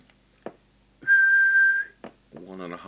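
A person whistles a single steady tone for under a second into a CB radio microphone, a TTI TCB550N, during deviation adjustment, between clicks and brief speech.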